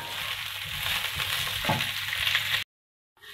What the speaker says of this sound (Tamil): அது வரைக்கும் இதை கொஞ்சம் நல்லா ஃப்ரை பண்ணிக்கோங்க.